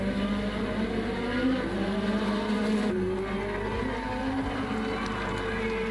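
A 1986 Formula 1 car at the Detroit street race holds a steady, loud high-pitched engine whine as it crosses the finish line, with the pitch shifting slightly as it passes and no talking.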